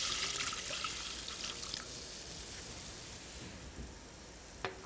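About a cup and a half of water poured into a cooking pot over caramelized dark onions, a soft trickling splash that fades within seconds, ending in a small clink, with no talking.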